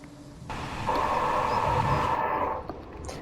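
In the train simulator Train Sim World 4, on the East Coast Main Line between Newark and Peterborough, a steady hiss of rain swells in over a low rumbling engine, holding for a couple of seconds before fading, with a faint click near the end.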